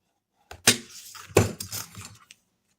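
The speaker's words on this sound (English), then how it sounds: "And then you're going to make your fold where the flap is going to be." Paper envelope flap being folded and creased by hand, with two crisp crackling bursts followed by softer rustling, close and alone.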